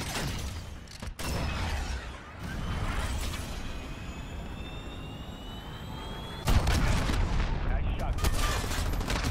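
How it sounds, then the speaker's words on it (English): A cruise missile launches in Call of Duty: Modern Warfare as a steady, loud roar of rushing engine noise and gunfire-like rumble, cut by a brief dropout, then swelling into a heavier blast near the end. "Missile away"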